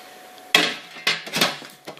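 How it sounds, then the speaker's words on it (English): A metal lid is set back onto a Cel-Fi signal enhancer enclosure: a sharp clatter, then several lighter metallic knocks and rattles as it settles, close up and alone. "Put the lid back on."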